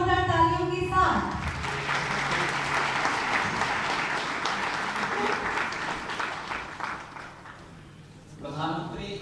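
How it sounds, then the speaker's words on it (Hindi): Sustained applause from an audience at a political government event in Uttar Pradesh, loud and steady for several seconds, with someone speaking briefly at the start and again as the clapping fades. "आप सबकी जोरदार तालियों के साथ"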